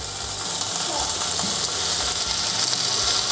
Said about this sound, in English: I am not used to frying up small pieces of bacon like this